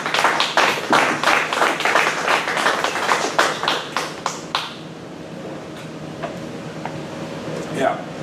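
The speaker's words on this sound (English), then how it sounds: "thanks for clapping" A small audience at a poetry reading gives brisk, close applause that fades out after about four and a half seconds, leaving a quiet room with a few faint knocks and shuffles.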